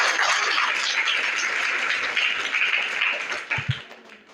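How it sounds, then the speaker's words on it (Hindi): Schoolchildren in a junior high school classroom clap for a classmate's correct answer, a busy burst of many small hands that thins out toward the end, with a few louder knocks or taps near the close. "इनके लिए आप लोग तालियां।"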